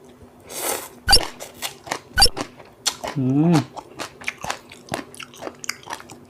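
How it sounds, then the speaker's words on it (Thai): Someone bites into spicy som tam eaten with bitter gourd, giving two sharp, close crunches followed by a run of wet chewing and smacking, with a short hummed sound of enjoyment in the middle. "เราไปกินกันเลยครับผม คำแรกทุกคน"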